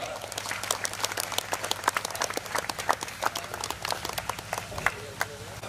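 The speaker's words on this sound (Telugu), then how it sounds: "అందరూ కూడా చప్పట్లు కొడుతూ ప్రేమపూర్వకంగా ఆహ్వానిద్దాం." Steady, dense clapping from a crowd, continuous and fairly loud throughout, with a low background hum.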